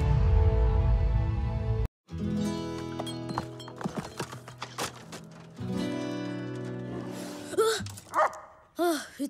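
A street dog barks a few times in an animated film scene, short sharp yelps toward the end, mixed with clip-clop sounds, other effects and music.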